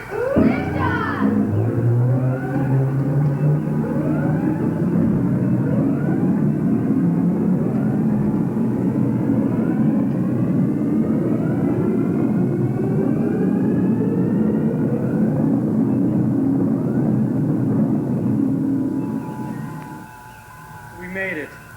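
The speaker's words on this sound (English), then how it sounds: "1, liftoff!" Spacecraft liftoff roar in a 1993 film: a loud, sustained rumbling engine blast with whining rising tones fills the scene almost continuously, then eases off near the end, with voices mixed in.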